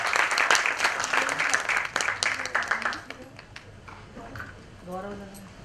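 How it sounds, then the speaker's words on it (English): Audience clapping for volunteers at a talk on happiness, a dense burst of hand claps over the first three seconds that thins out, followed by a brief spoken voice. "I think people who are volunteering deserve a clap."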